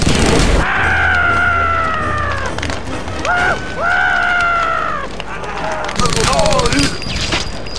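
Bursts of gunfire in the video game Nocturne, loud sharp shots scattered through a busy passage under harmonic, sustained game sounds and music, with a voice talking intermittently.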